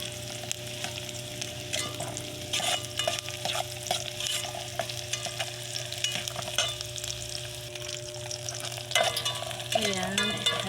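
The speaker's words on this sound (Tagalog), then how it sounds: "nagigisa na tayo ng bawang sibuyas" Garlic and onion sauté in a pan with a steady, close sizzle, broken by clinks and scrapes of stirring throughout and a brief louder clatter of the spoon near the end.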